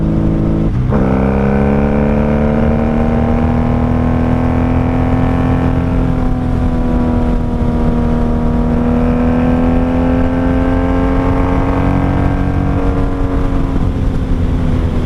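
A 1995 Harley-Davidson motorcycle fitted with Jardine exhaust pipes, heard from the rider's seat: a loud, close engine drone that blips sharply on a quick downshift, then pulls steadily and rises in pitch under acceleration without a break.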